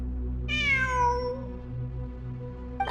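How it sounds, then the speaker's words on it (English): A single drawn-out cat meow with a falling pitch sounds clearly over a steady low ambient drone in the video game Genshin Impact, followed by a faint brief noise near the end. "It really is a cat."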